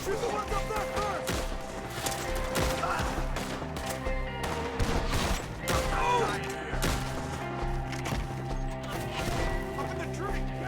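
Gunfire in Red Dead Redemption 2 during a shootout with enemies up in a tree, shots cracking repeatedly amid dense game sound, horse clatter and voices talking over it.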